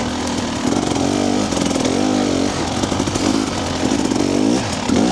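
A TBI motorcycle engine fitted with a TSP ERM idles and blips nearby, with a steady rumbling burble. Its pitch swells and falls in short rev cycles.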